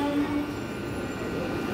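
A Bandel-Howrah down local train at Hooghly railway station, heard as a brief, steady, fairly loud rolling rumble with no voices.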